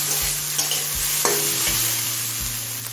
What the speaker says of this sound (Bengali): এখন বেগুন আর পেঁয়াজ তেলটা দিয়ে দিলাম